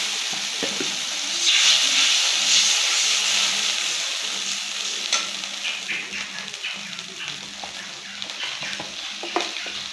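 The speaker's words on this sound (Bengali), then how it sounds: "তেলের উপরে হালকা ভেজে নিয়ে তারপরে" Ginger spice paste fries in hot oil for a fish and potato curry, giving a bright continuous sizzle with scraping stirs and small clinks. The sizzle is loudest early and settles slightly later, with no talking.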